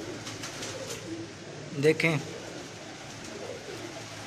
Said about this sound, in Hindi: उनके ब्रीडर कबूतरों का भी शौक करवा रहे हैं आपको